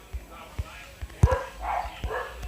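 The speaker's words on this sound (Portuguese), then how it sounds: "os cachorros tá latindo aqui" Dogs bark a few times at a distance in the background, short sharp yaps scattered over a quiet indoor setting while a person talks nearby.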